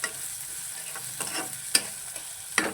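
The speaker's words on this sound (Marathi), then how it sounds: "आता त्याच्यामध्ये घालूया कांदा आणि मिरची. कांदा चांगला परतूया त्याला." Onion and green chilli sautéing in hot oil in a pan for a spinach dish, a steady soft sizzle broken by a few sharp stirring scrapes and clicks, close by with no talk.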